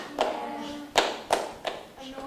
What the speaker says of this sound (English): I didn't ask you to clap yet.